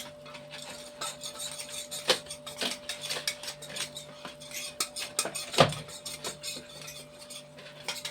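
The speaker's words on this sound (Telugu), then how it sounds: "ఇవన్నీ కలుపుతున్నాను" A spoon stirring a mixture with added water in a metal pot, irregular scraping clinks and taps close by, with a few sharper knocks and no talk.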